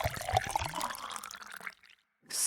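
Water pours into a glass of pastis as a close, gurgling trickle with a rising fill tone. It thins out and stops, followed by a brief silence and then a burst of noise, with no talk.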